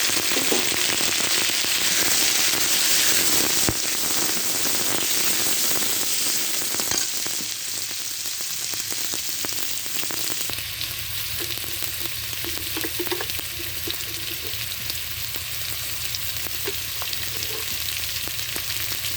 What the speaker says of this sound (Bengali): পেঁয়াজ রসুন আমার ভাজা হয়ে গেছে, এখানে আমি কেটে রাখা আলুগুলো দিয়ে দিলাম।